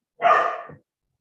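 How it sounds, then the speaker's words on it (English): A single short dog bark rings out close and clear, one sharp burst lasting under a second, alone against silence. "That was my dog barking"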